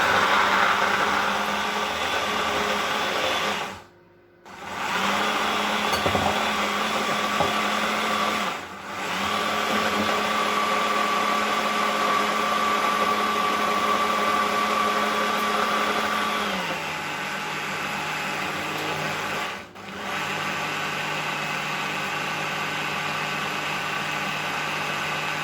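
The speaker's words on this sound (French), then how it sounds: "Alors moi j'ai mouliné à plusieurs vitesses" A blender purées red beans, a loud steady motor whir that cuts out briefly several times and restarts, shifting pitch between speeds, with no talking.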